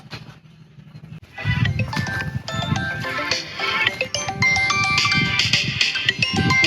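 A phone ringtone plays a bright repeating melody after a quiet start, growing louder and continuing steadily to the end.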